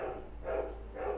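A dog barks somewhere in a house during a Final Fantasy XIV Endwalker livestream, two muffled barks well in the background behind game music and room noise.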